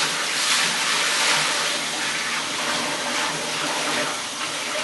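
Water gushes steadily out of a brewing bucket as leftover sterilising solution is emptied, a loud, continuous broadband pour running unbroken throughout.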